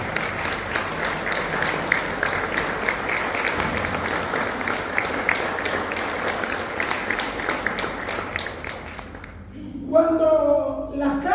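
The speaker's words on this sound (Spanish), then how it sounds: "Dale un aplauso al Señor." Church congregation applauding during a sermon, loud sustained clapping from a crowd indoors that fades out, followed by a preacher speaking.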